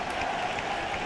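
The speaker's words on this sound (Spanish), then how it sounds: "ante el aplauso emocionado del pueblo congregado aquí en la Plaza de la Revolución José Martí" Crowd gathered at Plaza de la Revolución José Martí applauding, a dense continuous wash of clapping heard briefly from a distance.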